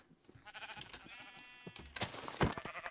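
Sheep bleating in the video game Minecraft, a few short wavering bleats from a small group of four sheep in hardcore mode, mid-loud and fairly close, with no talk over them.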